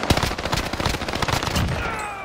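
Sustained automatic gunfire in Call of Duty Warzone Resurgence on the Caldera map, with loud rapid shots and a few sharper cracks rattling on for a couple of seconds and nobody talking.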